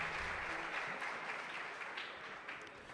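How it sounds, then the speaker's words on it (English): Audience applause for quiz teams at a science quiz final fills the room as steady, dense clapping from a crowd, holding fairly even and easing slightly toward the end. "Round of applause for all our teams."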